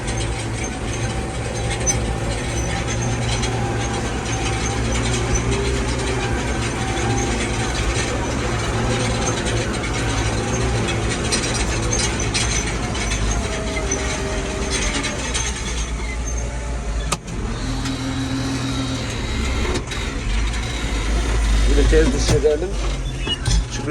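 Steady mechanical clatter and rattling of a tractor-drawn fertilizer spreader running continuously in a field, loud and close, with a low engine drone underneath.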